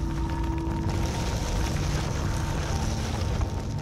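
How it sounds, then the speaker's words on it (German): Fox statue sliding downward in Spirit of the North, a steady low mechanical rumble with faint hum-like tones running evenly for several seconds, heard alone without voices. "Da unten fährt eine Fuchsstatue runter."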